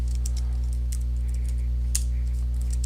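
Soft, irregular computer keyboard clicks tapping out a few words, faint beneath a loud steady electrical hum.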